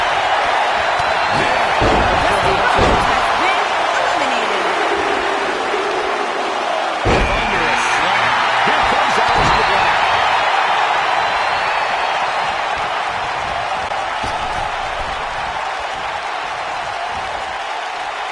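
A loud, dense crowd roar in a wrestling video game sustains throughout, with sharp thuds and slams cutting through at intervals and a commentator-like voice occasionally over it.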